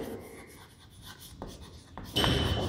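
Pen scratching out an accounting ledger entry on paper, soft continuous strokes close by, ending in a louder rustle of the page.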